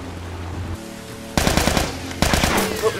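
Rapid automatic gunfire from The Last of Us video game, two loud bursts of repeated shots in quick rhythm following a quieter stretch of game ambience.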